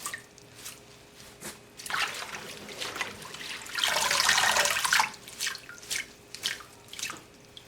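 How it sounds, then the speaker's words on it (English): Fresh parsley swished by hand in a sink of water, scattered drips and splashes building to a sustained sloshing burst in the middle, then trailing off into more drips. "But this way I can wash it in bulk. And just swishing it around gets the dirt off."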